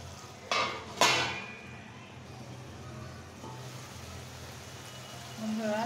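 A metal lid is set on a pot of curry with radish, eggplant and spinach: two sharp clanks close together, followed by a quiet simmering hiss.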